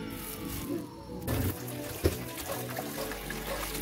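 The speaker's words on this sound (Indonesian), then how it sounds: "cuci bersih bayam dan wortel di air mengalir." Spinach and carrots are washed under running tap water, a steady rushing stream with brief splashes and clatters as the vegetables are handled.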